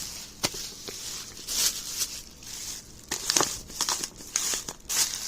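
A plastic bag wrapped around a paper bag of sugar crinkles and crunches close up, with irregular bursts of rustling continuing throughout and no talking.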